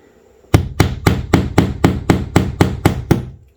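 Eleven sharp, evenly spaced hammer blows strike a wall in a steady rhythm, loud and close, with no talking.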